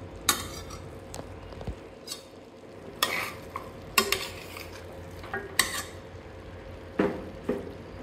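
Spoon stirring mutton curry with chili powder in a pan, a soft steady sizzle beneath scattered scraping clinks of metal against the pan, close and fairly quiet.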